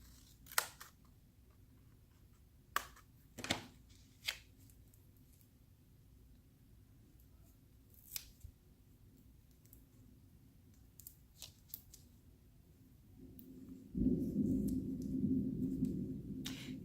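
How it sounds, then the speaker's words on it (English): Scissors cut into paper dimensionals for a craft project, giving a few sparse, quiet snips and clicks close by, with a louder rustling burst of handling near the end; no speech. "we'll just cut into one of these dimensionals"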